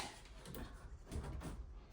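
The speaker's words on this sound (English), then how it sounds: "This door is not opening." A stuck interior door in a house is pushed and forced open, giving a faint, muffled rattle and a couple of low thumps over about two seconds.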